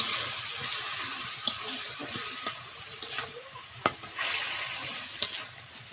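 Bhola fish pieces being stirred and fried in oil for Bengali tel jhal, a close crackling sizzle broken by several sharp clinks of the spatula against the pan, no voices.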